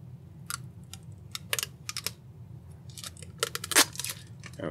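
Protective plastic film being peeled off a small electronic device, a stiff, uneven peel heard as close, irregular crackles and sharp ticks over a low background hum.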